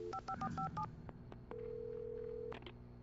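A quick series of touch-tone beeps as a number is dialed in the video game Alan Wake, followed by a long steady tone, then a few more blips; quiet and clean.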